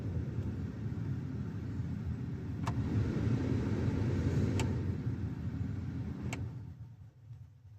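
A 2006 Dodge Dakota's cabin blower motor runs after a new resistor is fitted: a steady low whirring hum with a few faint clicks, fading down near the end.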